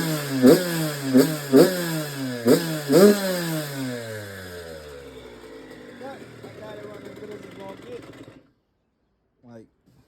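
A dirt bike with a carburetor in need of work revs hard in a few quick throttle blips, then falls back to a rough, wavering idle that runs on for several seconds before cutting off.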